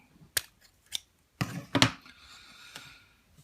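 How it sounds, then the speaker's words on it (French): Scissors snip through excess material on a Nextgen Genesis clone build, a few quiet, separate cuts with short pauses between them, close by with no talking. "Je coupe ce qui dépasse là-haut."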